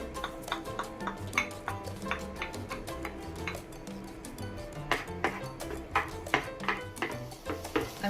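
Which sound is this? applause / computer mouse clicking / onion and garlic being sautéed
onion and garlic being sautéed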